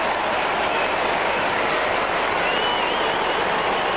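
Loud, sustained roar of a large stadium crowd at an AFL football match between Geelong and Melbourne at Kardinia Park, a dense steady wash of cheering and applause filling the whole stretch without pause.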